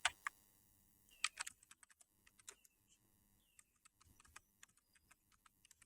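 Typing on a computer keyboard while entering text in CorelDRAW: quick, light key clicks in irregular bursts with short pauses, close and fairly quiet.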